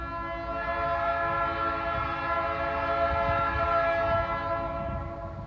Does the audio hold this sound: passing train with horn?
yes